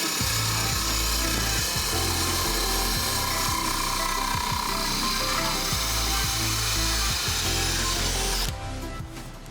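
A drill fitted with a hole saw bit grinds steadily through ceramic tile, loud and close with a rough, pulsing whine, then cuts off abruptly near the end, with no talking.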